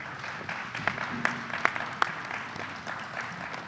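Scattered clapping and applause from a crowd at a Camden High School event, with a few sharp individual claps standing out over a steady patter.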